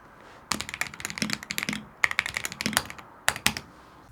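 Brisk typing on an Alume 60 keyboard in a concrete grey case, with Geon Raw HE half-open-bottom switches and white double-shot keycaps. Crisp, close clacks come in quick bursts with short pauses and no speech.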